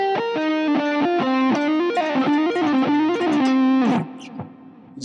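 Electric guitar riff, played through effects and distortion: a run of quick, evenly picked sustained notes in a repeating pattern, loud and close, thinning into a brief softer tail near the end.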